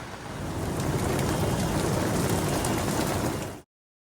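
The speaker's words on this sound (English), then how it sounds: "Still raining." Rain falling during a road trip: a steady, dense wash of drops at an even level that cuts off abruptly after a few seconds, with no voices.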